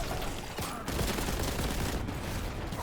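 Dense enemy gunfire in the shooter game Warhammer 40k: Boltgun, a loud continuous fusillade of overlapping shots and blasts from many attackers close by and further back, with no pauses.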